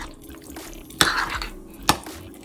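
Seasoned ingredients with onion powder and dried oregano being mixed again in a bowl, two sharp clinking stirs of a utensil against the dish, quiet and close with no talk.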